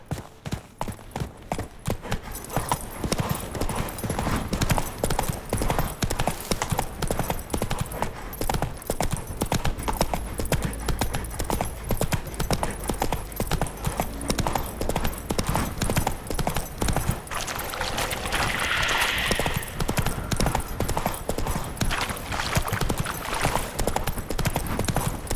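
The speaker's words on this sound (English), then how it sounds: "Whoa there, Roach." Horse hooves clip-clop steadily in The Witcher 3 video game, a continuous rhythmic trot that stays close and prominent, with a brief snort or whinny partway through.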